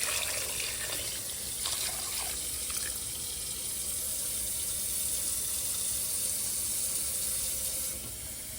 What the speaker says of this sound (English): Adding the water.